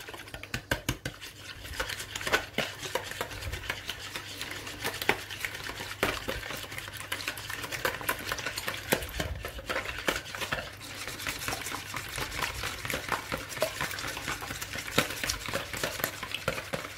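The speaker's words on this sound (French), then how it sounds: "Alors en premier lieu vous allez battre les œufs en omelette." Eggs beaten into an omelette mix with a whisk in a bowl for a bread pudding, a steady rapid clatter of utensil against the bowl running throughout with no talk.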